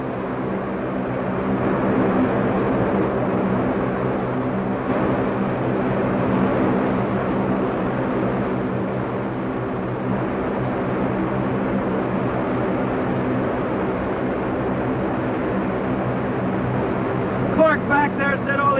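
A parked airplane's engines drone steadily before takeoff, a constant low hum filling the cabin throughout, with people talking faintly over it.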